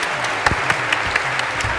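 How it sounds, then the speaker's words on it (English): Applause from a conference audience for an international payroll panel, a steady broadband patter of many hands with a few louder individual claps standing out, moderately loud and continuous through the short stretch. "let's give Michelle Levine, Melanie Lynn, and Jason a big round of applause for our international panel"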